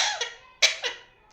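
A pet parrot imitating a human cough, giving a few short raspy cough bursts up close with brief pauses between them.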